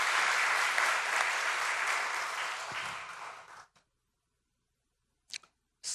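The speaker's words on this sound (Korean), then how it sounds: "그 격려의 박수 한번 보내도록 그렇게 하시겠습니다" A church congregation applauds its choir at a Sunday service, a dense burst of clapping that holds for about three and a half seconds, then cuts off into silence with a couple of brief stray sounds afterward.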